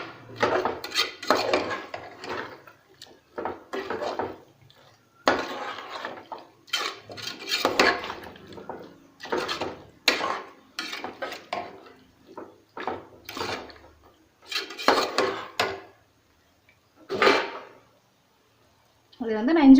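A spoon clatters and scrapes against a pan while spices and a chicken biryani mixture are stirred together, in irregular bursts of metallic knocks and scraping, with a voice talking intermittently over it.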